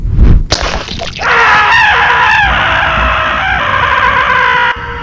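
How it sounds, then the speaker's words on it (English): A sharp, loud scream-like cry rises over a droning background, starting after a brief thump, with wavering high tones sustained for several seconds. "It sounded like a scream."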